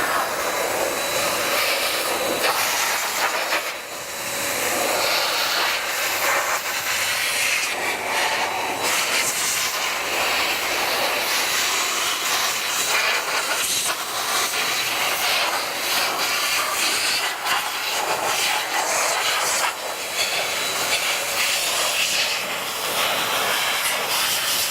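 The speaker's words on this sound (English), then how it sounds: "So let's turn on our Metro Sidekick Blaster," A Metro Sidekick Blaster air dryer blows water off a black car, a loud, continuous rushing hiss close to the listener that swells and dips slightly as the nozzle moves across the surface.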